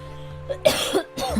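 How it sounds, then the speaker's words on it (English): Two harsh, raspy coughs from a chest infection in quick succession, close and fairly loud. "I'm gonna cough though, unfortunately"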